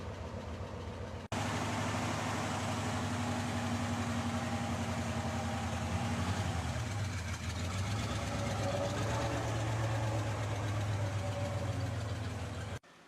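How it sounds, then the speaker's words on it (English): A 2017 Jeep Wrangler JKU Rubicon, base model, idles in park in two-wheel drive, giving a steady, close, low engine rumble that holds evenly after a brief quiet opening, with no talking. "we're in our 2017 JKU Rubicon. It's in park, in two-wheel drive"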